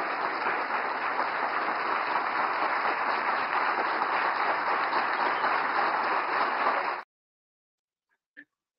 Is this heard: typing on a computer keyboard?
no